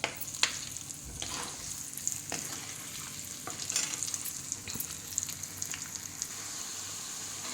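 Spices sizzle and crackle as they fry in hot oil for a tempering, a continuous close sizzle with scattered sharp pops and stirring scrapes, no voices over it.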